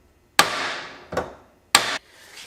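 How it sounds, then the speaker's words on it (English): Three sharp hammer blows flatten a crimp barrel on a Texas decoy rig, each a close, loud metallic strike with a short ringing tail, spaced unevenly apart. "I have that all hammered out now"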